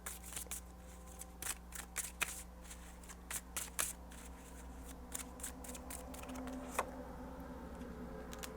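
A deck of tarot-style cards being shuffled by hand, with repeated riffling bursts and crisp flicks close up in a quiet room, easing into softer rustling toward the end.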